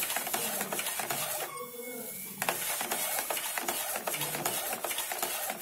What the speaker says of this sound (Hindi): ये प्रिंट कर रहा है